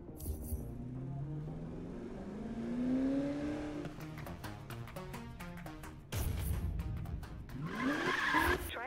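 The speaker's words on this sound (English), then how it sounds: "do a burnout to get your tires to the perfect temperature for maximum grip" Tires squealing through a car burnout in the racing game Need for Speed, with a rising engine whine and revving, then a long sustained screech that grows louder toward the end.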